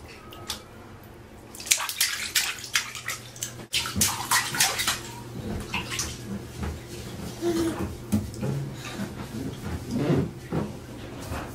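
A bathtub filling with water for a child's bath, with splashing, pouring and dripping that come and go in uneven bursts close by over a low steady hum.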